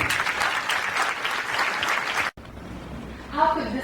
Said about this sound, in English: So please give a nice round of applause to our next speaker, Ms. Talan Aouny.